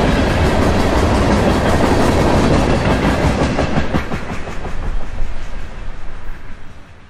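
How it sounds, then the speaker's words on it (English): A freight train rolls past loudly with steady rumbling and rhythmic clickety-clack of wheels, the noise gradually easing as the cars move away. "This is train L732 coming back west from Quitman, Georgia, with interchange traffic off the Georgia and Florida Railroad."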